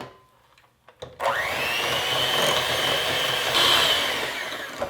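An electric hand mixer whirs up after a short quiet start and runs at a steady high-pitched whine while creaming cookie dough in a bowl, close up and loud, easing slightly toward the end.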